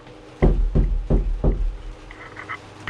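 Four firm knocks on a VW Transporter T5 campervan wall panel with a first layer of Silent Coat sound deadening, evenly spaced, each with a dull thud and a short ringing tail, then a few faint high taps.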